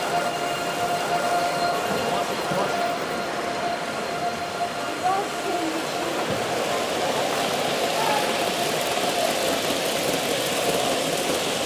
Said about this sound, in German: Als nächstes sehen wir jetzt im Einsatz den ICE 1